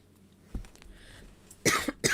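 A short throat-clearing cough from someone with allergies and post-nasal drip, a faint catch at first and then a louder, harsh burst of two or three close coughs at the end, alone in a quiet room.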